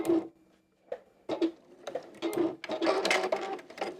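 A home sewing machine runs a back stitch while finishing the seam on a stuffed fabric bunny softie, firing in short close bursts of rapid ticking with brief pauses between them.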